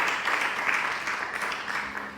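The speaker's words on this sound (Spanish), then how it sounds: "Denle una ofrenda de palmas al Espíritu Santo por ese amor." A church congregation claps and applauds during a worship service, a steady dense wash of hands that stays fairly loud for the whole stretch without a clear break.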